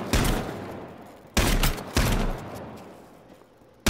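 Video game gunfire: three heavy bursts of shots close up, each followed by a long reverberant decay, with no talking.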